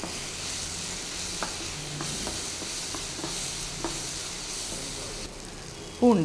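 Drumstick sambar ingredients sauté in a pan, giving a steady low sizzle with a few soft stirring scrapes, fairly quiet and close, with no talk over it.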